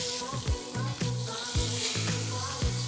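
Salmon sizzles steadily in a hot pan, with a few soft clanks and stirring scrapes breaking the continuous frying hiss at close range, no voices.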